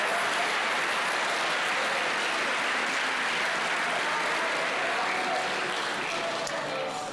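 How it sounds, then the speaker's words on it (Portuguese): A church congregation applauds during a family worship service, a dense, sustained clapping that stays loud throughout and fades slightly at the end. "Você pode dar uma salva de palmas para Jesus?"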